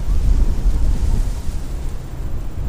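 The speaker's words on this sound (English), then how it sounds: "Oh, that wind. Kicking up." Strong gusty wind rushing over the microphone beside water during fishing rod casting, a loud, continuous low buffeting roar with no voices.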